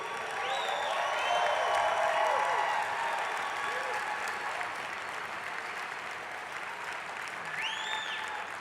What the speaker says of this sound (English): clap for him if you know who he is.